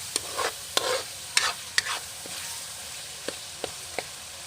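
Hot oil sizzles steadily in a pan while ginataang balaw, a Bicolano dish made with plenty of chili, cooks, broken by several sharp scraping clicks of stirring. No voices.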